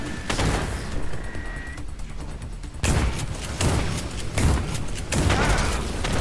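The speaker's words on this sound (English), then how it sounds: "here comes the bomb again." Bomb blasts in the System Shock remake, a series of heavy booming explosions with crackling debris and gunfire-like bursts, loud and repeated across the stretch.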